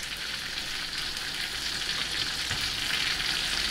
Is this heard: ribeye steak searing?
yes